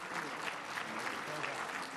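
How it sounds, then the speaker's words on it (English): Spontaneous applause in the UN Security Council chamber, a dense, even clapping from many hands, steady and somewhat distant, quiet overall. "Il a été applaudi spontanément."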